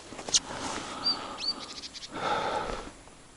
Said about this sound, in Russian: Синица с ума сходит.